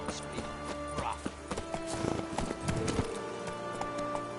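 Horse hooves clip-clop in a regular rhythm in The Witcher 3 video game, a string of sharp hoof strikes over ground alongside other game sounds, with voices talking over the hoofbeats.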